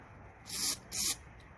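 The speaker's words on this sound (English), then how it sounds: "We spray here." Two short bursts of aerosol spray blown into the carburetor main jet of a Toro 1000 snowblower that won't start, close and fairly loud in a quiet room.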